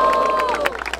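At a freestyle rap battle in Barueri, São Paulo, a crowd roars with cheers and clapping, loud and close, in a dense wash of voices and hands that thins toward the end.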